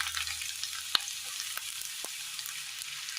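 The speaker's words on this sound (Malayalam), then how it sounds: "എണ്ണയിലേക്ക് സബോള ഇട്ട് കൊടുക്കാം" Sliced onion frying in oil in a pan for vegetable masala noodles, a soft steady sizzle with a few sharp spoon clicks against the pan.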